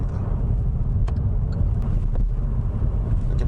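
A 2019 Hyundai Avante 1.6 gasoline sedan with a CVT accelerates smoothly, heard from inside the cabin as a steady low road and engine rumble with no gear shifts and no talking.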